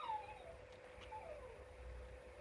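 A dog whimpers and howls in a long, thin, wavering cry that rises and falls. It is faint and distant, heard through the quiet hum of a workshop.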